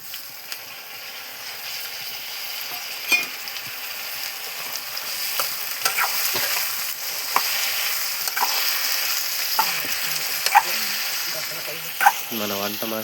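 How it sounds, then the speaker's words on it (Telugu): Chopped tomatoes are stirred into a hot pan at a nighttime outdoor fish cookout, giving a steady oily sizzle with occasional scraping stirs and clinks, while people talk nearby. "ఇప్పుడైతే మనం కోసుకొని ఉంచుకున్న టమాటాని అయితే కలిపేదాం."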